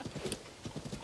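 Horse hooves clip-clop in quick, rhythmic bursts in the video game Zelda: Tears of the Kingdom, close and fairly soft, with a brief whinny-like tone and no speech.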